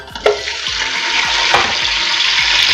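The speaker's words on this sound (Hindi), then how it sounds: "अब हम इसमें चिकन डालेंगे।" Chicken pieces drop into a pot of hot oil with browned onions, setting off a sudden loud sizzle that settles into a steady, close frying hiss with faint stirring knocks.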